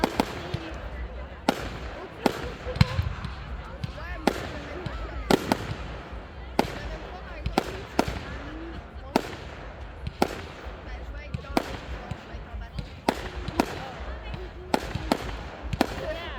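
Repeated sharp bangs of fireworks go off at irregular intervals in Paris, some near and loud, others fainter, over a crowd murmur with voices talking.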